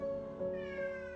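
A cat meows at an animal shelter for stray and abandoned cats, a steady, tonal cry that holds close and clear for just over a second, with no voices present.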